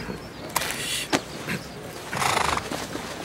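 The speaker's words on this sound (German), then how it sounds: "Dieses Pferd ist tatsächlich Silberstrahl!" Horse neighing as a radio drama sound effect, a whinny with breathy bursts and a louder, longer stretch near the end, heard fairly close over a low background rumble.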